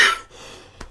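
A single short, sharp cough up close, followed by a faint breath.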